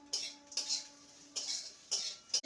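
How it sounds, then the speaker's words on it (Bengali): A spoon stirs and scrapes a spiced vegetable mixture with coriander and cumin powder in a pan, giving a few separate metallic clinks and scrapes in short bursts, close and fairly quiet, with no talking. "ভালো করে নেড়ে নেব।"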